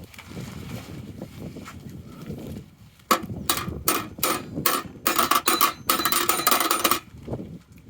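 A hammer taps while a top box is fitted to a motorbike. About a dozen sharp metallic knocks come close and fairly loud, some single and some in quick clusters, after a quieter stretch of handling noise.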